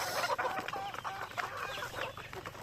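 Roosters and hens of about three months, raised as fine-sized fowl, cluck and chatter in short irregular bursts close by, with no talking.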